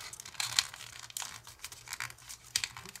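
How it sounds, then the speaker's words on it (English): Paper creased and folded by hand for an origami fidget spinner, crisp crinkling and brushing bursts in quick irregular bursts, close and fairly quiet, with no talking. "let's fold this flap behind itself"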